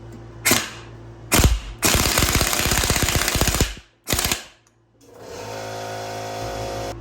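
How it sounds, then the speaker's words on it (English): An impact wrench drives the harmonic balancer bolt on an LS engine in a turbo Chevy Suburban build, firing in short bursts and one long rattling hammer run of rapid blows, close and loud, with pauses between. "For this, I typically like to use my impact because it brings it there very quick."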